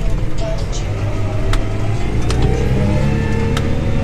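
New Holland T6.175 tractor engine running as it sets off to plough fallow ground, a loud, steady low diesel drone with a faint whine and scattered clicks close by.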